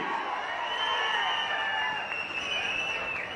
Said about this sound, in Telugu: గట్టిగా చప్పట్లు కూడా చెప్పండి, అభినందించండి